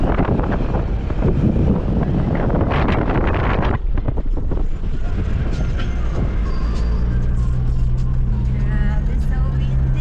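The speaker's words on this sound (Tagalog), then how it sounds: "Grabe, so windy." Strong wind buffets the microphone in a loud, continuous roar outdoors near a river in New Zealand, with voices briefly audible under the rush.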